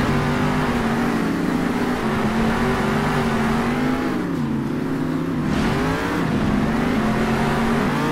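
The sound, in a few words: monster truck engines racing in video game Monster Jam Steel Titans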